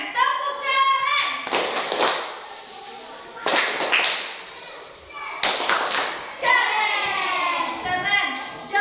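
Children perform the Indonesian "tepuk keren" clapping chant in a classroom lesson, with sharp clap bursts in rhythmic groups between chanted and spoken voices.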